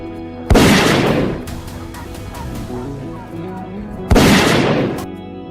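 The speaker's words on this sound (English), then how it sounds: "the whole group focused, held their guns firmly, and opened fire" Hunters' guns open fire at wild hogs in a Florida swamp from about 400 m away: two loud, sharp reports with long rolling echoes, several seconds apart, over a busy background of movement and faint voices.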